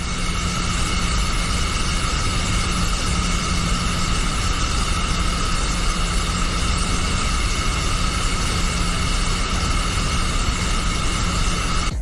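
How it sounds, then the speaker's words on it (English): A MiG-29 jet flying high, heard as a steady, unbroken roar of engine noise with a broad hiss and faint tonal hum, constant in loudness throughout with no voices. "This MiG-29 jet is capable of flying really high."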